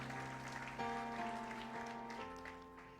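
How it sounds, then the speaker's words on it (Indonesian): A church congregation applauding during a sermon, a broad patter of clapping blended under sustained, steady music that fills the whole few seconds. "Kasih tepuk tangan bagi Allah kita."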